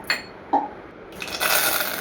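Cumin seeds tipped into hot oil in a pressure cooker make a few sharp clinks near the start, then a rising, steady crackling sizzle fills the second half, close and fairly loud with no voices.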